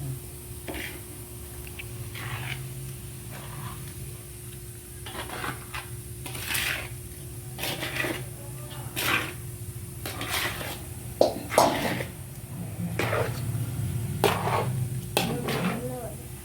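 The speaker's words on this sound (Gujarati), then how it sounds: "હું હલાવું." A spoon scrapes and clinks against a pot while jaggery syrup is stirred for surma laddoos in a village kitchen, with repeated soft knocks and scrapes under a steady low hum and occasional talk.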